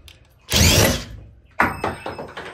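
A Gator Grip universal socket on a ratchet works a bolt loose: a loud close grinding burst, a pause, then a run of quick clicking ratchet strokes.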